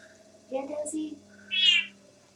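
A cat meows twice, a short low call followed by a higher, louder meow, close by in a quiet indoor pottery studio; a person speaks softly between the sounds.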